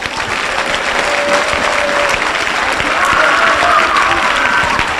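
A church congregation at a deliverance service breaks into loud, sustained applause and cheering, a dense wall of clapping that holds steady throughout with a few voices rising over it.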